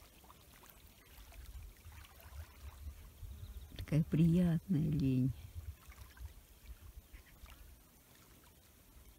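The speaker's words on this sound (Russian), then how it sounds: "Легкая, даже не волны, а легкий плеск воды, всплеск." Gentle lapping of calm water on Lake Issyk-Kul in Kyrgyzstan, a soft low wash of small splashes along the shore, heard beneath a person speaking quietly.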